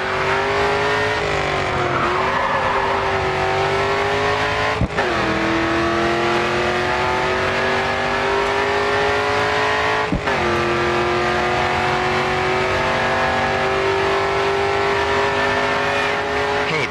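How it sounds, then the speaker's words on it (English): Race car engine held at full throttle in the Grid 2 racing game, a loud sustained roar with rising pitch and two sharp gear-shift breaks, continuous and close with no talking. "All right, full throttle now, coming onto the final straight."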